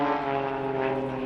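A propeller-driven aerobatic display aeroplane from the Blades Aerobatic Team flies at the East Fortune Airshow, its engine a steady loud droning hum held throughout.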